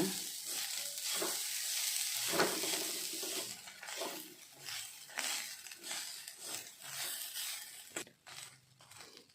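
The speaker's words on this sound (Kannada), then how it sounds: "ಸ್ವಲ್ಪ ಫ್ರೈ ಮಾಡ್ಕೊಳ್ಬೇಕು." Grated coconut and dry red chillies fry in oil in a pan, a close sizzle broken by repeated stirring scrapes and clatters in an uneven rhythm, with no one speaking.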